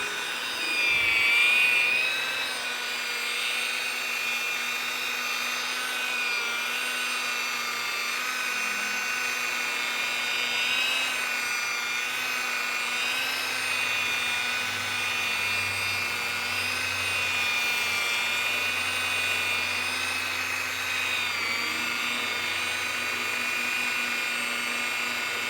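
A Barjack professional rotary polisher runs continuously with a steady high whine and droning tonal hum, holding close and loud for the whole stretch without talk.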